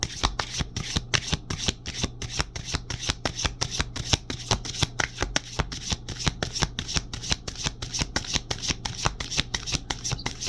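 A deck of tarot cards being shuffled, a continuous rapid riffling flutter of card edges close up, steady throughout with no pauses.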